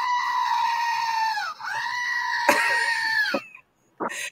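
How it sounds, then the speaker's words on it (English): A goat screams in two long, loud, human-like wails, each bending down in pitch at the end, followed after a brief silence by a short third cry. "This is a screaming goat."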